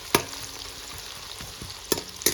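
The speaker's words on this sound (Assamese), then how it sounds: "পিঁয়াজখিনি ভাজি লওঁ অলপ।" Onions frying in a pan for a home-cooked jackfruit dish: a steady close sizzle with a few sharp stirring clinks and scrapes, no voices.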